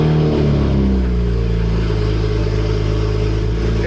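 An open-top BMW's engine turns over and settles into a loud, steady idle rumble.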